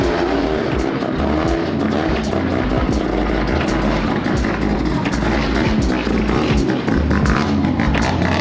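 A high-horsepower car engine roars loud and unbroken at close range, its deep rumble steady with small surges and no pauses, with no talk over it.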